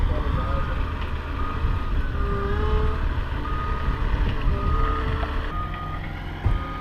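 A forklift delivering lumber up a rural homestead road sounds steady reversing beeps over a constant low engine rumble, close and fairly loud.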